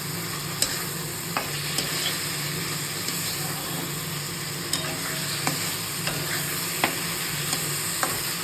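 Spices and food sautéed in oil in a pan with a steady low sizzle, punctuated by regular sharp clicks and scrapes of a stirring spoon over about eight seconds, with no talking.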